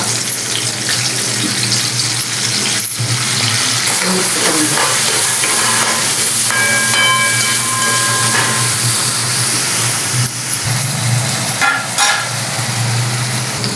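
Cumin, onion, tomato and curry leaves fry in hot oil for a puri bhaji, giving a steady, close sizzle with stirring scrapes and a few sharp clinks. It runs alone the whole time with no talk.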